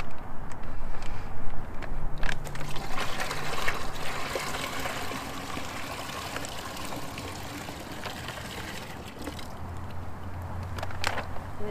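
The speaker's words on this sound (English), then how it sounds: "We're just going to pour it into the bucket." Maple sap pouring from a plastic collection bag into a storage bucket outdoors, a steady liquid trickle and splash that is loudest early and continues at a moderate level throughout.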